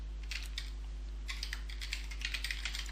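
A password typed on a computer keyboard, quick quiet key clicks in two short bursts over a steady low electrical hum, no voices.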